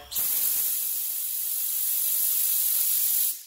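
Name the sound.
spray gun spraying bed liner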